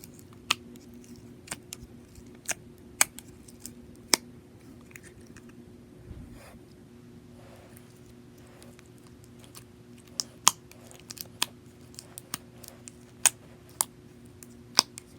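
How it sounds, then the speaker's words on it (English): Yellow crunchy slime mixed with confetti glitter being squished by hand, giving sharp, scattered clicks and crackles over a low steady hum. The pops come irregularly, some loud and close, with no talking. "It's not all that crunchy, but it has some confetti glitter in there."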